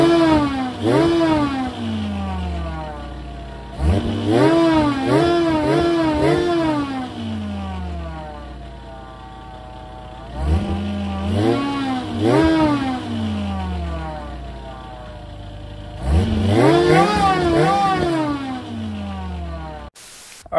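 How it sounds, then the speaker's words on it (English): An engine fitted with an SC14 supercharger revs hard several times with a whining supercharger note, each rev rising sharply then falling back to a rumbling idle with exhaust burble. "I'm gonna shoot it from this side so you kind of get the exhaust sound as well"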